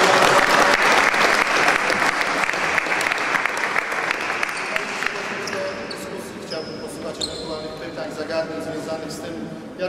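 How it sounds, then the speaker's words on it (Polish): Applause for children after a basketball drill session, with loud, dense clapping that fades as voices rise and a ball begins bouncing in a gym. "Myślę, że brawa dla dzieci, bo się bardzo starały."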